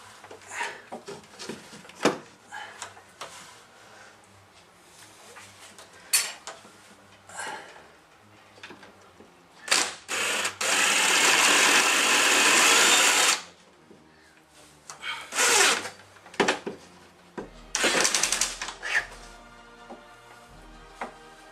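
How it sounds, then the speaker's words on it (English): A screw being driven in during off-grid solar wiring in a tiny house, heard as an irregular series of close ticks and clicks, with a longer steady buzzing run of a powered driver in the middle. "let me quickly screw this in."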